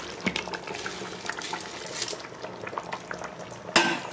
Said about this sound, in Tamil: இப்போ வந்து தண்ணி நல்லா கொதிக்குது